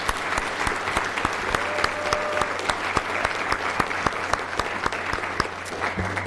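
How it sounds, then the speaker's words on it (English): A crowd at a legacy recognition ceremony applauds the organisers, a full, even roar of many hands clapping steadily and evenly throughout, with no voices standing out. "let's give them a round of applause for their hard work"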